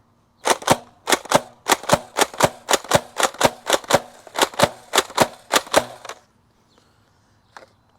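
A Nerf Rival Edge Series Saturn blaster slam-fires a quick rhythmic string of sharp, close, loud snapping shots with a short pause mid-run, then goes quiet apart from one faint click.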